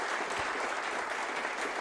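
Snooker crowd at the Crucible during the 2023 World Championship applauding a shot, a dense, steady patter of clapping from a full arena throughout.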